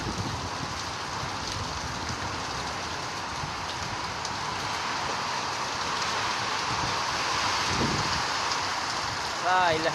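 Heavy rain pours steadily outdoors, a dense continuous hiss with some wind noise buffeting the microphone, loud and close throughout.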